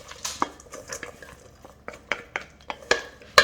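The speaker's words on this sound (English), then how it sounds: "And then we'll give that a little mix." A sauce topped with freshly grated parmesan being mixed for a few seconds in a cast iron pan, with light irregular scrapes and metallic clinks of a utensil against the pan, close and alone.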